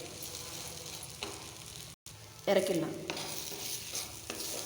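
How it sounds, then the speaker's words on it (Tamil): Bread upma with masala is stirred in a hot pan, giving a steady sizzle with scraping strokes of the spoon, close and moderately loud, briefly cut off, then louder again. "ப்ரெட்டில் மசாலா நல்லா கோட் ஆகிற மாதிரி 2 நிமிஷம் கலந்து விட்டு"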